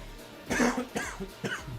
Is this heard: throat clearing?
yes